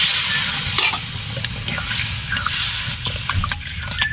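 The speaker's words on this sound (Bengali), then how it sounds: "এবার আমি জল দিয়ে দিলাম।" Water poured into a pan of frying gathi kochu (taro) after shrimp, bursting into a loud, bubbling sizzle with scattered crackles and spatula scrapes, close and continuous, with no talking.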